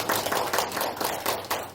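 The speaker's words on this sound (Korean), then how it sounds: "박수 한번" About two dozen attendees at an indoor lecture on long-term care facility management clap together, a brief close patter of hand claps at moderate volume with uneven rhythm.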